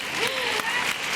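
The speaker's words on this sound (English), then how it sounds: "Autumn, give her a round of applause." Steady audience applause fills a conference plenary hall, a continuous wash of many hands clapping with a faint voice rising above it.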